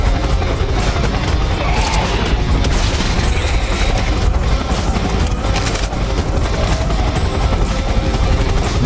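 Dense, continuous gunfire and explosions fill the scene in the video game Serious Sam 3 BFE, with a helicopter's rotor din blended into the loud, unbroken barrage throughout.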